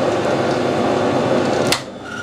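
A lathe screw-cutting a thread for a radial aero engine gives a steady, close mechanical whir and hiss. Near the end a sharp click sounds and the noise drops to a quieter hum, as if the motor eases off.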